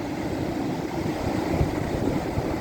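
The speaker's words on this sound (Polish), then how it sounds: "Zburzone morze, fale odbijają się o brzeg" Rough, foaming Baltic Sea surf breaks along a beach, a dense, steady roar of churning waves mixed with wind, continuous and fairly loud with no voices.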